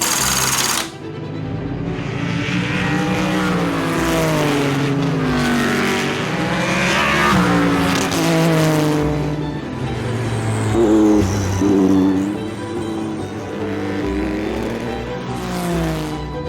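Classic race cars at the HSR Classic Sebring 12 Hour run wheel to wheel, engines roaring loud and close with rising and falling pitch as they pass and shift, a continuous snarling drone with no talk.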